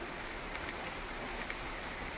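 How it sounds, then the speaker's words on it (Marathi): Rain falls on an open farm field as an even, soft hiss of drops, distant and fairly faint, with no voices. "या असा पाऊस पडतो काय सांगा तुम्हाला बघायचा पाऊस तुम्हाला दाखवतो."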